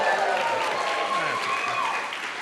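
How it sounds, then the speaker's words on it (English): An audience at an applied art and design award ceremony claps and cheers, a steady wash of applause with whoops, while a voice talks over it. "if you feel like cheering, clapping, whooping, hollering, at any moment, I think that should happen"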